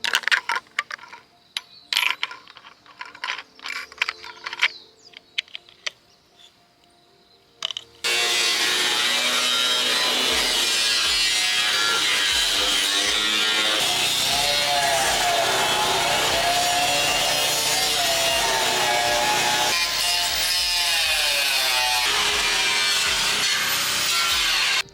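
A power tool cuts out rusted carriolas at the base of beams, a loud, continuous grinding and whining that starts abruptly after a stretch of scattered clanks and handling noises.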